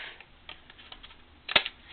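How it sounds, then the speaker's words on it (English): Quiet, light clicks of scissors, then one sharp, close snip through paper near the end while trimming card-making paper. "I'm going to take my scissors"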